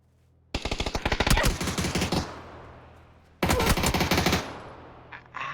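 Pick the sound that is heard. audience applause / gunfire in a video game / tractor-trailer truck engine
gunfire in a video game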